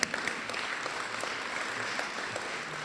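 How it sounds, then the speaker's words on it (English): An audience at a city's state-of-the-city address claps steadily for a few seconds, a dense, even patter of many hands filling a large room. "I think that deserves a little bit of a clap there."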